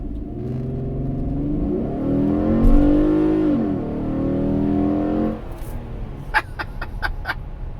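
A Chevrolet Impala with the 3.6 LFX V6 and a cold air intake accelerates, its engine note rising and swelling through the gears from inside the car, then dropping to a quieter cruise with brief clicking sounds.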